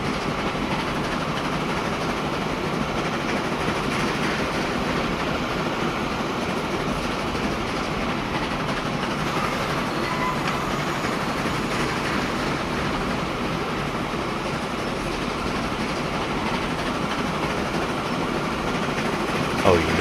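A train rolls along rails in the Transport Fever 2 video game, a steady rumbling clatter with faint rhythmic clicks that runs loud and unbroken with no talk.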